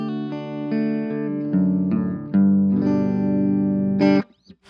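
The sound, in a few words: clean electric guitar tone on Orange Crush 20 amp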